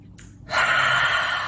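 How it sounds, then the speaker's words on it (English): One slow, deep inhalation through the nose during a guided breathing session at a festival, beginning after a brief quiet moment and carrying on as a steady, close, airy rush. "Inhale in through the nose."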